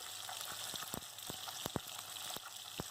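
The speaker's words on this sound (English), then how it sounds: "our oil is too hot and our fish is frying" Fish pieces frying in very hot oil for a masala fish curry, a steady close crackling sizzle with scattered sharp pops and spits throughout.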